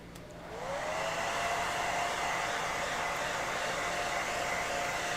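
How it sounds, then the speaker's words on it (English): Hair dryer blowing on a still-wet foam prop fire extinguisher: a steady close whooshing roar that rises as the motor spins up in the first half second and then holds loud and constant with no voices. "Let's get a hairdryer."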